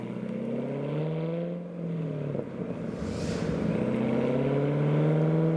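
A Vauxhall VXR8 pulls away from a classic car meet, its engine note climbing and falling through a couple of gear changes, then swelling louder and steadier as it drives off, with no voices.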